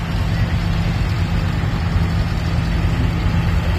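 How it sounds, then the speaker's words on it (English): A big Scania V8 haulage tractor unit from a local haulage company runs with a steady, loud low rumble throughout, close by, with a continuous engine drone and no clear revs or pauses. "big Scania V8 haulage tractor, local company"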